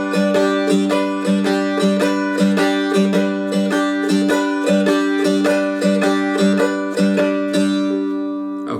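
Plucked strumstick dulcimer chords ring out in a steady rhythm of repeated strums, bright and close, with sustained notes overlapping and fading at the end; no talking.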